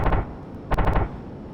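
Rapid bursts of gunfire fired at an aerial tanker in a flight combat video game, two short volleys of sharp close shots over steady engine roar, no talking.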